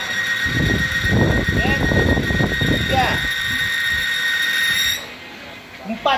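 An engine runs with first gear engaged during a demonstration of an engine oil, giving a steady high whine and hum under close talking that drops away near the end.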